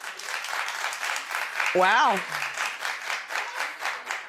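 Studio audience at a daytime talk show clapping steadily throughout, with a brief exclaimed voice rising over the applause midway.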